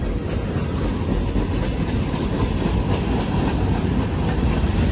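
A long train rolls past on a railroad near the old rail town of Thurmond, West Virginia, its steady loud rumble and wheel clatter filling the whole stretch close by without a break.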